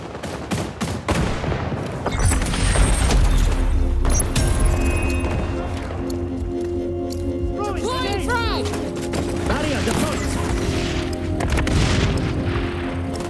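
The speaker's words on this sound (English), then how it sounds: "Grenades away!" Loud booming blasts and rattling gunfire fill an XDefiant video game match, with a heavy explosion early followed by sustained dense gunfire rumble and a brief voice partway through.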